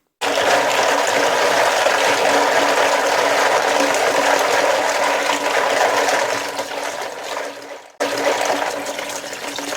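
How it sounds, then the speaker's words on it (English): Ice tumbles and pours into a bucket of water for chilling blanched beans, a steady loud rushing, splashing wash that dips briefly near the end and then resumes. "That ice gonna go in that bucket just to cool my beans down."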